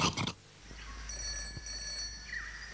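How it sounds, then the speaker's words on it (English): A telephone rings in a TV advert from a 1988 broadcast, a steady electronic ringing tone repeating after a short burst of louder sound at the start. "That'll be the phone, Reg."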